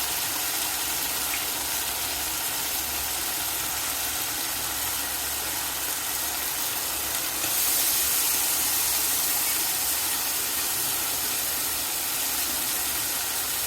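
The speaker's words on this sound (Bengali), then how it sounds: "এখন আমি ধুয়ে রাখা মাছগুলো দিয়ে দিব।" Washed small kajoli fish added to frying spice paste in a pan, a dense, loud, continuous sizzle and hiss that swells briefly partway through, with no talking.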